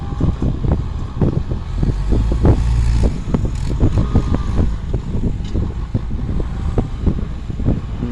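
Strong wind blows across an open rice paddy in rural Thailand, buffeting the microphone with loud, continuous rumbling gusts and flapping bursts.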